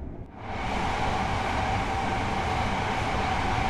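Train braking in Train Sim World 4, a steady loud rumble of rail wagons that rises quickly at the start and holds a constant roar with a faint high tonal whine, no talking.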